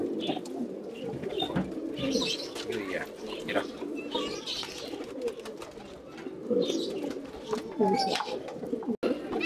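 Pigeons coo in soft, repeated throaty calls close by, with other birds chirping and a person talking intermittently.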